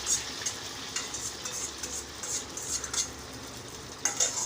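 Egg poured into a little hot oil for an omelette sizzles in a pan, a soft continuous crackle with faint utensil scrapes and taps, fairly quiet and without talk.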